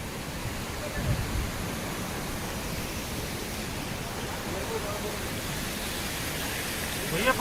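Waterfalls beside a safari road inside Jim Corbett National Park, a steady broad rush of falling water throughout, moderately loud and even, with a couple of faint knocks.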